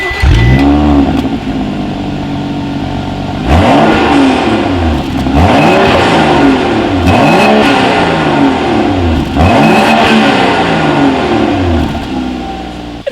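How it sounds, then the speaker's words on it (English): A 2018 BMW X5 revs repeatedly through dual chrome-tipped exhaust outlets, loud and close, each rising and falling engine sweep following the last in a steady series of blips. "So as always, you guys, here is that exhaust clip."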